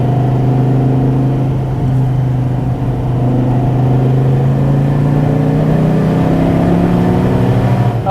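A 2014 SRT Viper GTS with a loud factory stock exhaust accelerates, its deep engine note rising steadily and droning close and strong for the whole stretch, with no talking.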